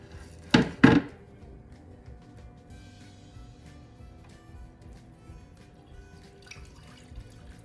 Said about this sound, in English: we need to take this liquid and I'm gonna pour it into this bowl right here